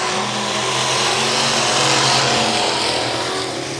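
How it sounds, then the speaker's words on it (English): Factory stock cars in a heat race at Tulsa Speedway, a loud continuous roar of several engines droning together from the track, steady and dense with no clear talk. "They're coming around, lights out. We got racing, Josh."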